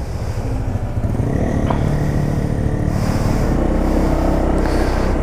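Honda PCX scooter with combined braking system ridden with a passenger aboard, a steady engine drone and road rumble with wind buffeting running continuously, loud and close.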